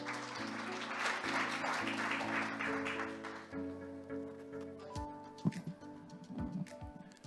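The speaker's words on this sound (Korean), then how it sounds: "회장님 나오실 때 박수 부탁드리겠습니다." Applause from the audience at the opening ceremony of an academic policy conference, fairly faint and blended with tonal music, thinning out after a few seconds while the music carries on alone.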